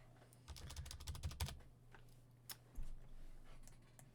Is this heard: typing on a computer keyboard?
yes